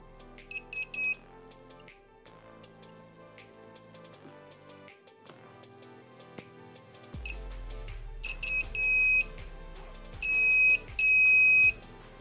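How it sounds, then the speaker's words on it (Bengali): A small electronic buzzer wired straight to a battery, positive to positive and negative to negative, sounds in loud, steady, high-pitched tonal bursts that repeat and grow stronger near the end, with no talking. "ব্যাটারি প্লাস বাজারের প্লাস পিনে লাগাবো ও ব্যাটারি মাইনাস বাজারের মাইনাস পিনে লাগাবো, তাহলেই বাজারটি বেজে উঠবে।"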